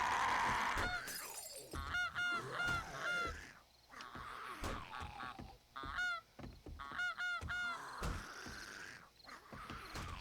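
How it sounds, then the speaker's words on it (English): A goose in the 7 Days to Die video game honks repeatedly in loud, nasal bursts at irregular intervals, mixed with sharp cracking and breaking impacts throughout. "So we got a goose with us."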